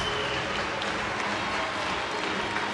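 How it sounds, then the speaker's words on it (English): Audience applause at a European Championships 10 m women's platform diving preliminary in Glasgow, a dense steady wash of clapping from a large indoor crowd, sustained at even loudness with no clear voices. "That applause a little more convincing"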